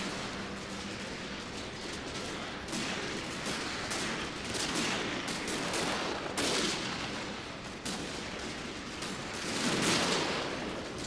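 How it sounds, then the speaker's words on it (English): Musket volleys in a Total War: Shogun 2 Fall of the Samurai battle crackle continuously, dense overlapping shots rolling like a steady fusillade with sharper bursts rising and falling, no talking over it. "See tremendous gunfire downhill here"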